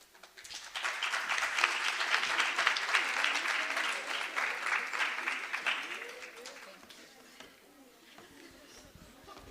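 An audience at a young entrepreneurs' event breaks into applause, a dense burst of clapping that swells quickly, holds for several seconds, then thins out and fades into scattered claps and murmuring.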